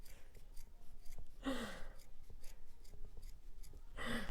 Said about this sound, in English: With a good pair of scissors.